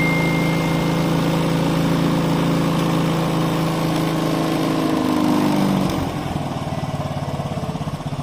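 Gas-kit motorcycle engine idling up close in a steady, buzzing drone that drops to a lower, uneven idle as the RPM is adjusted.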